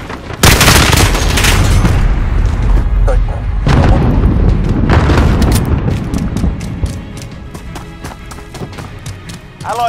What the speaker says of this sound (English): Allied cluster strike is down.